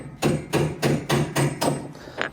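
Six sharp, evenly spaced hammer blows ring out on a socket fitted to a washing machine's drive, struck close up to loosen the bolt, with no talking.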